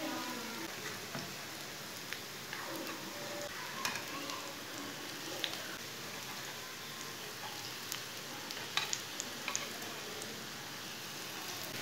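Savory vermicelli snacks fry gently in a pan, giving a faint, even hiss like light rain with an occasional tiny crackle.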